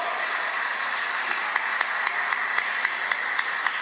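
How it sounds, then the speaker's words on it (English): A school prize-giving audience applauds, with a steady wash of clapping and distinct claps falling in a rough regular rhythm. "So let us give them a round of applause."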